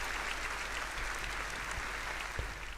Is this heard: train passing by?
no